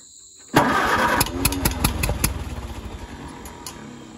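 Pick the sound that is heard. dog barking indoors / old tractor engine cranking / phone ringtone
old tractor engine cranking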